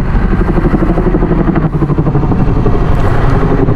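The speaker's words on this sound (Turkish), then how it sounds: "Helikopter daha geçiyor." A helicopter roars loudly and steadily overhead during a large wildfire in İzmir, its rotor thumping in a fast, continuous rhythm with a heavy engine drone.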